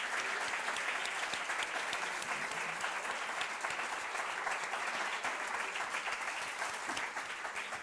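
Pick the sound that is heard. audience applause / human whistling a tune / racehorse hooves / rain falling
audience applause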